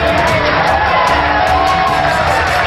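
A large arena crowd at a 1994 US Open pool match cheers and whoops loudly and continuously, with scattered shouts rising out of a dense, steady roar.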